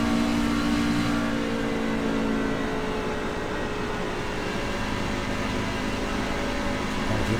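An open-wheel race truck's engine roars steadily at wide open throttle on a track, a loud continuous drone that holds a constant pitch through the whole stretch without a break.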